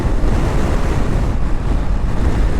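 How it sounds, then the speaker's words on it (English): Strong wind roars steadily into the microphone on a KLR 650 motorcycle ride during a camping trip, a loud, continuous rumbling buffet with no break. "Wow, that wind is ridiculous, boys."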